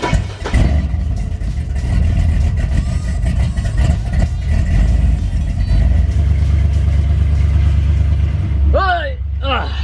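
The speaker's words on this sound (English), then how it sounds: "It hasn't been started, so it's idling a little rough right now." An old pickup truck left standing for a couple of weeks idles rough on a cold day. The engine gives a loud, steady, uneven rumble close by, and someone talks over it.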